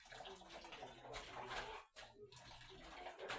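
Tap water runs steadily while kale leaves are washed in a kitchen before cooking, a continuous close splashing and rushing with one short break partway through.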